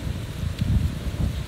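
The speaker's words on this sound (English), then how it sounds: "Everyone knows it's windy." Strong wind blowing outdoors on a gusty day, buffeting the microphone as a low rumbling roar that swells and dips in short gusts, close and fairly loud with no talk.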